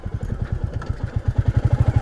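A 2022 Royal Enfield Classic 350 motorcycle rides over gravel, its single-cylinder engine thumping in a steady, close rhythm that grows louder and more regular toward the end, with crunchy clatter underneath.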